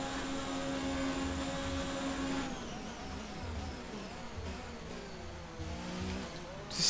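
An Alfa Romeo Formula 1 car screams along in F1 2019 at the Italian Grand Prix at Monza, a sustained high engine whine close up that shifts pitch as it runs flat out down the straight, with no voices.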